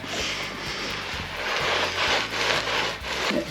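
A rag rubs over the rusty, grimy steel legs of a vehicle lift, giving a steady close broadband scrubbing with rhythmic swipes and faint low hum beneath, no talking.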